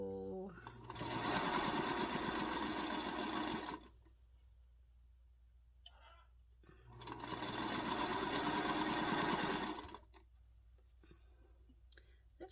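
Two long bursts of sewing machine stitching on a quilt block for a Christmas tree pattern, each lasting several seconds, with a quiet pause between them and faint low hum throughout.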